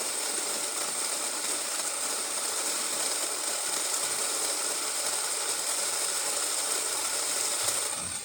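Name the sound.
Rancilio Rocky coffee grinder grinding coffee beans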